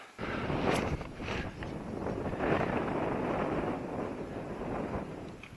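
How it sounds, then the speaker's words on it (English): Gusty wind blowing outdoors during a flying session, roaring steadily across the microphone with swelling, uneven gusts and no voices. "the wind is just sort of so gusty and inconsistent"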